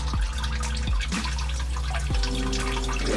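Engine oil from a 2014+ Chevrolet Silverado 5.3 draining out of the oil filter, a continuous close liquid pour with a few brief dripping and splashing shifts.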